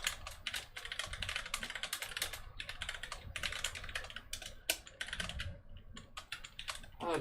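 Fast, uneven clatter of keys on a computer keyboard while writing Python code, close and fairly quiet, with short pauses between bursts and no speech.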